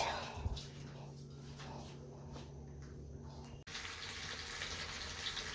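A running kitchen tap pours water while chicken is washed beneath it. The flow is a steady rushing splash that breaks off abruptly partway through and then resumes, with faint voices in the background.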